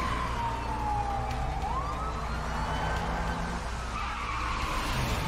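A car speeds along and skids in the video game A Way Out, with tyres squealing in long rising and falling sweeps over a constant loud engine roar.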